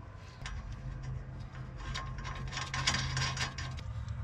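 Rapid ratchet clicking while a nut is snugged during a front CV axle replacement on a Nissan, steady close ratcheting over a low background hum.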